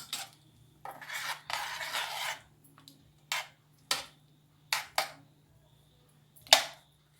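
Butter chicken with fresh cream being stirred in a pan after the gas is turned off: a series of short, close scraping and clinking strokes, with a few longer rubs early on and quieter gaps in between.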